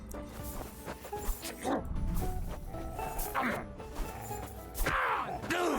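A dog barks and yips repeatedly in Kingdom Come: Deliverance 2, with sharp, loud yelps spread over several seconds amid clattering combat thuds.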